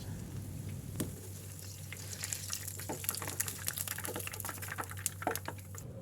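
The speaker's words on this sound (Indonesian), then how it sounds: "Goreng sampai kecoklatan" A steady, crackling sizzle of potato and cheese dough sticks frying in hot oil until browned, with occasional sharper pops over a low hum.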